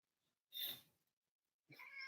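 A house cat gives two short meows, the first a brief breathy cry and the second a clearer, more tonal call after a pause, both near and fairly quiet in an otherwise silent room.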